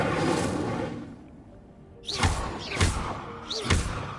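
The Incendio fire spell cast in Hogwarts Legacy, a run of three sharp whooshing thumps close together after a brief hush, loud and near.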